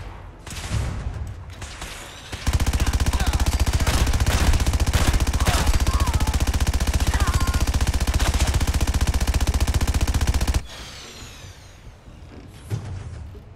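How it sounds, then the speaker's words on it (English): Minigun in Fallout 4 roars in one sustained, loud burst of rapid fire lasting about eight seconds, with quieter game ambience and clatter before and after. "one of her tools of cleaning up is a minigun"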